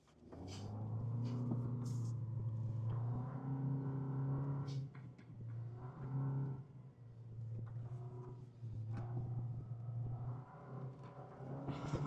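A stock Toyota Land Cruiser drives and jumps in sand, its engine giving a steady low droning rumble that rises and dips with throttle over several seconds, with no talk.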